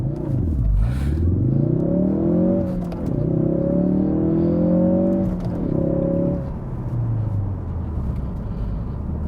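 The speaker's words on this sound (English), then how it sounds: "Now we'll try a launch from a dead stop." A 2016 Ford Focus RS launching from a dead stop, its engine revving hard in rising sweeps with a couple of gear-change dips before the note falls away, loud and close.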